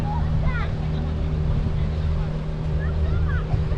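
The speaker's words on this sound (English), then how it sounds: "There's a little boat going through here." A small boat passing along a river in Wroclaw: a steady low motor drone with water and wind noise under someone talking, joined by faint chirps in the background.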